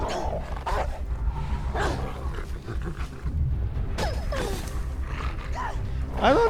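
Dogs bark and growl in the video game Beyond Two Souls, with rough, snarling bursts and yips over a dense, rumbling game soundscape that stays loud throughout.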